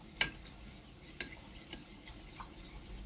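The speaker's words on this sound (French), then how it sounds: "Je mets un petit peu d'eau. C'est quoi là? Ça se délaye pas très bien hein, le beurre de cacahuète." Peanut butter thinned with a little water is stirred in a bowl for a peanut sauce. A sharp spoon tap opens it, then faint, sparse scraping and clicks come from close by, with no talking.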